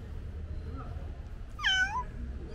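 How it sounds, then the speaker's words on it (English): A street cat in Istanbul gives a single clear, close meow over quiet outdoor background noise. "the cats on this street are very picky because they're so spoiled"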